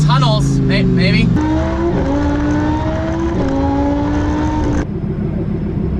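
An 800hp Lamborghini engine roars and revs inside a tunnel, loud and close, its pitch climbing in several stepped surges before easing off near the end.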